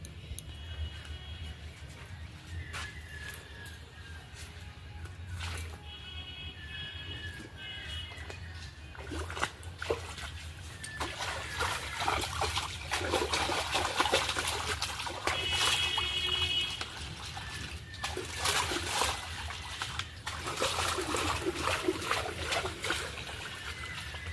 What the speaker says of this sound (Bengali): এবারে ধুয়ে নেবো পুকুরে